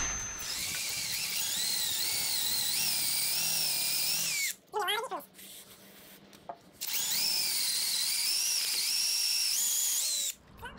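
A power drill with a large bit whines at a high pitch while biting into a small-block Chevy 350 engine block, stopping briefly in the middle before starting again for several more seconds.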